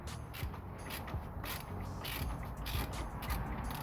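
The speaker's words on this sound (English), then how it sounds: "So I've got my 14mm on there, the socket head extension." A ratchet with a 14mm socket on an extension turns bolts loose on a 2016 Renault Clio engine. It makes rapid, repeated clicking in short strokes, close-up but faint, with no voices.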